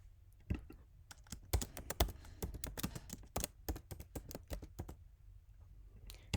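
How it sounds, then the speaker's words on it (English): Typing a name on a computer keyboard: a quick, irregular run of close, crisp key clicks, some struck harder than others, with short pauses between, in an otherwise quiet room. "simply by typing your name"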